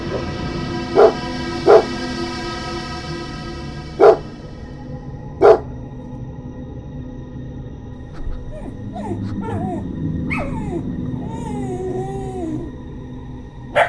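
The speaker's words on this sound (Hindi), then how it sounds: "तभी वहाँ बैठे कुत्ते ने भास्कर के ऊपर भौंकना शुरू कर दिया" A dog barks four sharp, loud times at spaced intervals in a spooky Hindi horror story setting, followed by low eerie drones and wavering tones underneath.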